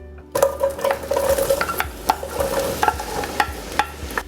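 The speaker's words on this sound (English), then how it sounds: "Into our butter, we are gonna add in 1 small chopped onion and 1 8-ounce package of sliced baby bella mushrooms." Chopped onion and sliced baby bella mushrooms sizzle in butter in a pot, a steady close frying hiss broken by sharp clicks and scrapes of a utensil stirring against the pot.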